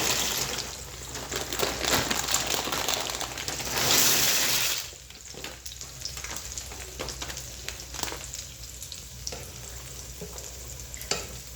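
Pasta goes into a pot of salted, oiled water at a rolling boil, a bright hiss of bubbling and splashing that swells near the fourth second, then settles into a quieter, steady simmer with light stirring knocks.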